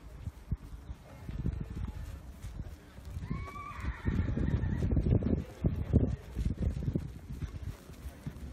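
A horse presented at a trot at an Anglo-Arab sale show, with hoofbeats clip-clopping steadily through the clip and a clear whinny around the middle, amid some crowd and ambient noise.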